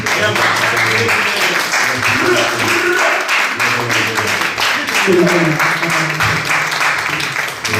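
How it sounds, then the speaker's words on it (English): Steady audience applause fills the room at an interview event, dense clapping continuing throughout while someone talks over it. "a round of applause for Gary for coming"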